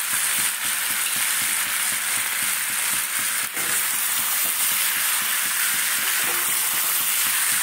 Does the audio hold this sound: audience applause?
no